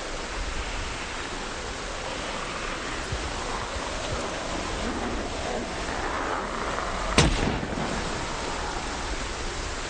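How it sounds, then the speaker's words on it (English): One sharp M36 gunshot from Project Zomboid cracks out partway through, short and fairly quiet, standing only a little above a steady, wind-like broadband hiss that fills the whole stretch. "We're going to use the M36 because it's, technically speaking, it's the quietest gun. And we're just going to shoot once."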